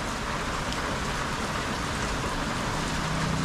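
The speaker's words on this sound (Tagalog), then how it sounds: "Sobrang lakas na ng ulan." Heavy rain pours down in a steady, dense broadband hiss that stays loud and unbroken, with no voices.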